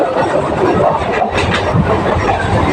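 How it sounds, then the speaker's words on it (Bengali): A suburban commuter train rolls into Durganagar station with a steady loud rumble and rattle heard from inside the carriage, and no clear clicks or squeal stand out. "ট্রেন ঢুকছে এখন দুর্গানগর।"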